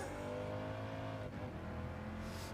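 A Subaru race car engine in the video game Gran Turismo Sport drones continuously at high revs with a slight pitch dip midway and no voices, faint overall.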